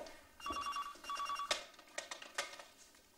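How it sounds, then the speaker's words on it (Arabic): An old landline telephone bell rings in a quiet room with no talk, giving two clear electronic rings with a few short clatters after them. "قوم رد على التليفون"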